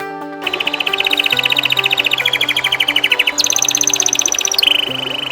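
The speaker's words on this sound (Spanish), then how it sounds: "Es hermoso disfrutar del canto de los pájaros" Birdsong fills the air: rapid, bright chirping trills repeating steadily and close, with no voices.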